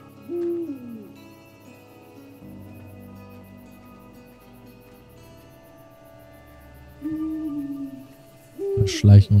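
Owl hoots in the video game Endling: Extinction is Forever, a few low tonal calls near the start and again toward the end over quiet ambient game music.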